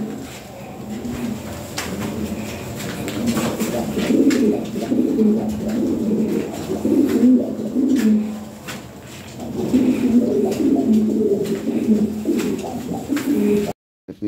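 Low throaty cooing from imported-bloodline pigeons comes in steady overlapping bursts, near and clear, with light knocks and rustling before a sudden cut at the end.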